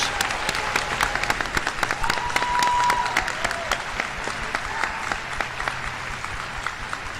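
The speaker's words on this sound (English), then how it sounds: "Let's give them another round of applause." An audience applauds a concert choir at a rainy-day school graduation, a dense, steady wash of many hands clapping that holds at even loudness for the whole stretch, with no speech over it.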